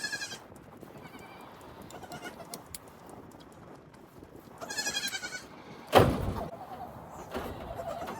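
Goats bleat on a homestead, a few mid-distance calls spaced apart, with a louder sharp bleat near the end over faint outdoor background.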